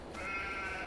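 A single sheep bleat in the Farming Simulator 22 video game, a short wavering cry heard clearly over a soft ambient background, with no talking.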